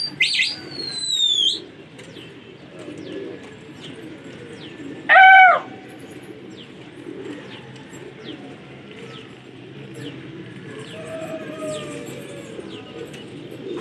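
Rooftop pigeons in Lucknow arrive with a sudden, close burst of wing flapping, set against soft cooing and scattered chirps from the flock, with a few sharp calls near the start.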